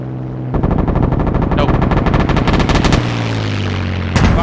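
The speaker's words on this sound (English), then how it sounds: "We're firing. Firing. Fire." A tank gun firing in a tank video game, heard as a loud close burst of rapid, sharply repeating shots over a low engine hum, followed by another sharp blast near the end.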